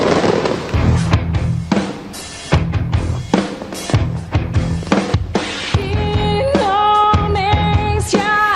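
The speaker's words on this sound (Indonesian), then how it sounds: "pertunjukan kembang api menutup pelepasan Karnaval Bersatu Hari Ulang Tahun ke-80 RI di Monas Minggu malam" A fireworks display over Monas on a Sunday night closes the 80th Indonesian Independence Day carnival, with a series of sharp booming bursts and crackles. Tonal whistling sounds rise near the end.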